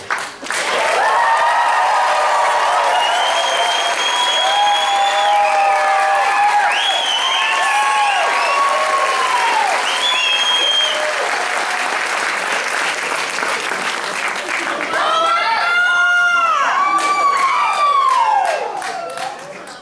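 A graduation ceremony crowd at Palmer College applauds loudly and continuously, with whoops, whistles and shouted cheers rising over the clapping and a second burst of cheering near the end.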